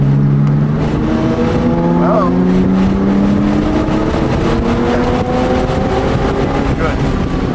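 A car runs fast around the Roebling Road race track, its engine droning loudly and steadily with rising and falling pitch as it shifts. Someone speaks briefly over the engine noise.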